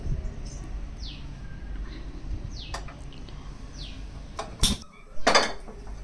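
A kadai set down on a lit gas stove while cooking prawn and okra curry gives two short metallic clatters near the end, with birds chirping faintly in the background.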